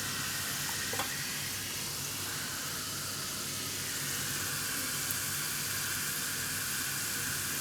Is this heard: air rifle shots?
no